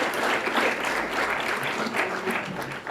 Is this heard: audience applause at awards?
yes